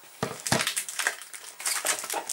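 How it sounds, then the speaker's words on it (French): An EK Success paper punch crunches through paper to cut flower petals, a series of close, crisp crunching and rustling pulses in quick succession, with no voice. "Je me sers de ma perforatrice EK Success."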